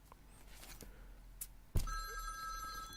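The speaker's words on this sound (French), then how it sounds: "Oh, téléphone." A telephone rings with a bright trilling electronic tone that starts suddenly and continues steadily, standing clearly above a quiet background.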